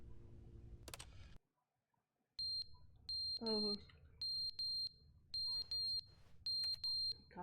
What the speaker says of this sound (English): God, the fire alarm needs new batteries.